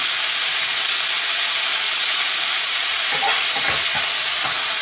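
Pork curry frying in a hot pan is stirred, a loud continuous sizzle and hiss with scraping, knocking spoon strokes near the end.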